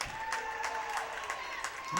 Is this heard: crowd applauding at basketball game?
yes